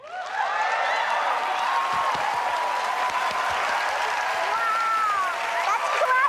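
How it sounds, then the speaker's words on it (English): Sustained, even clapping from a game-show studio audience, filling the whole stretch with a constant wash of hands along with cheers and whoops. "that's clapping a lot"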